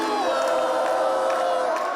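Large crowd of supporters gathered outside Cristina Fernández de Kirchner's balcony in Buenos Aires, a steady dense roar of many voices with scattered cheers and whoops, loud and continuous throughout.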